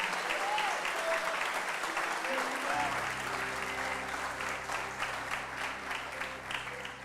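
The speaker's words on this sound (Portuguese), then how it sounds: "aplaude bem forte ao Senhor." A church congregation applauds loudly and steadily during a sermon, broad clapping filling the space while background music or a sustained tone plays underneath.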